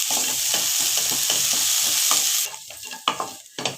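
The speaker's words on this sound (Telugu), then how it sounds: "ఉల్లిపాయలు వేగిన తర్వాత సన్నగా కట్ చేసిన పుదీనా వేస్తున్నాను" Chopped mint and curry leaves hit onions frying in a pan for chicken egg fried rice, giving a steady loud sizzle with rhythmic stirring scrapes, then quieter clatters near the end.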